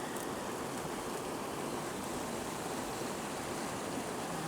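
Water rinses steadily over the riffles and mat of a gold sluice box, a continuous close rushing and splashing that holds at an even level throughout with no talk.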